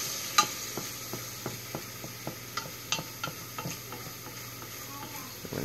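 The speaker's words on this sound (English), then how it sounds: "So we can go ahead and add the white wine now. Okay. All right. Give it a nice little stir then." Alfredo sauce with white wine sizzling in a pan while a spoon stirs it, giving a steady hiss broken by regular light ticks and scrapes, quiet and close.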